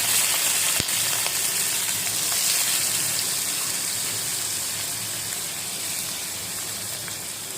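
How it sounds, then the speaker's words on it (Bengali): Shrimp hiss and spit as they fry in hot oil over a strong flame, a dense, continuous sizzle with a sharp tap near the start. "এই যে চিংড়ি মাছগুলো এখন তেলের মধ্যে দিই"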